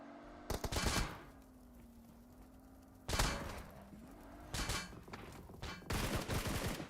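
Rapid bursts of automatic gunfire in a video game battle come in three or four loud clusters, separated by quieter stretches with a steady low tone.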